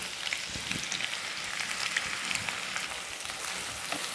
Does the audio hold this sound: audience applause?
no